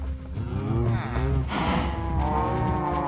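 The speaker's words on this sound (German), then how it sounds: "Dicht gedrängt die Kühe." Cows in a crowded Minecraft pen give low, drawn-out moos that overlap one another in a steady, close chorus with no talking.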